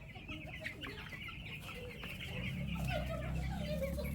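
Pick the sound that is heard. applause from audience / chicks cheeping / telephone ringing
chicks cheeping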